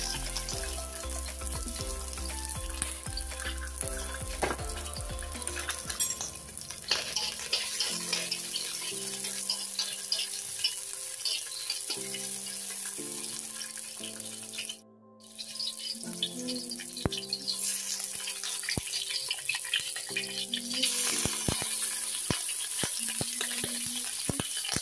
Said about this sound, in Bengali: একটু ভুনা করে নিয়ে একটু জাল দিয়ে রাখি